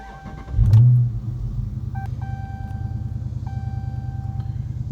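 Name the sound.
stock Dodge car driving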